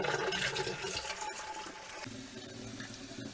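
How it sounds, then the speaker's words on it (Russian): Water running from a tap into a container at a country house garden, a steady close rush and splash that shifts tone partway through, with no talk. "сейчас я наливаю воду"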